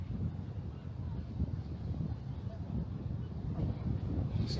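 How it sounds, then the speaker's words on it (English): Strong wind buffets the microphone outdoors at a fishing spot, a steady low roar rumbling continuously throughout without pause. "I might do a voiceover because it's very, very windy."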